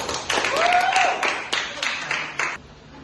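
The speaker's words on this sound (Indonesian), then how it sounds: "Tepuk tangan lagi untuk kelompok 2." A classroom of students claps for a group during a science lesson on separating mixtures, with a brisk, loosely rhythmic burst of hand claps that tapers off after a few seconds, and a thin tonal whistle briefly rising over it.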